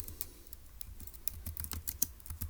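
Quick, uneven keystrokes on a computer keyboard as notes are typed up while working a Turing Machine logic puzzle, close and fairly quiet, with irregular clusters of clicks and no talking.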